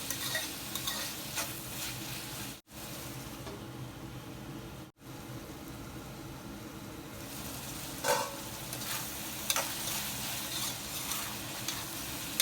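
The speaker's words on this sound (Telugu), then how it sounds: "టమాటాస్ని ఒకసారి మధ్య మధ్యలో కలుపుతూ ఉండండి, మాడిపోకుండా." Tomatoes cooking in oil in a pan are stirred, producing a steady soft sizzle with scraping and swishing strokes, close and even, with no voices.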